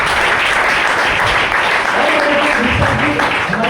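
Loud, dense applause from the audience at a Smart Value business plan show, a steady wall of clapping throughout with a voice faintly audible beneath it toward the end.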